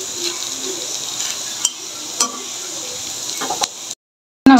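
Battered mustard flower fritters (bora) frying in oil make a soft continuous sizzle, with a few sharp utensil clicks on top before a sudden cutoff near the end.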